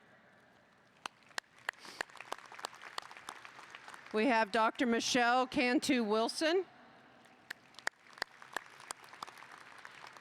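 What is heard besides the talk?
round of applause for board members at commencement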